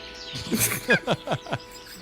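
Short chirping birdsong rises briefly over soft background music, a few quick descending calls in a row, fairly close and clear.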